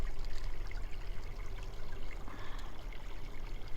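Water pours out in a steady, close splashing rush during a geocache hunt at Linvilla Orchards, a continuous broadband gush lasting several seconds without anyone speaking.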